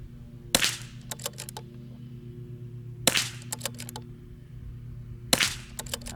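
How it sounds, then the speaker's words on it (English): Three sharp .22 LR rifle shots fired at an outdoor range, spaced a couple of seconds apart, each followed by brief metallic clicks and rattles, with a steady low hum beneath. "I'm shooting these fast so that I can hopefully keep it in the same wind to keep the group together."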